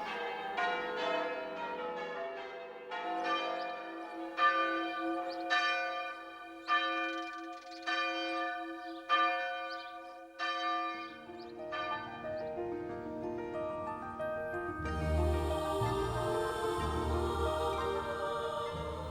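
Church bells peal in a steady series of clear strikes, loud and ringing, with the rhythm loosening midway before a denser, noisier wash of bells closes it out.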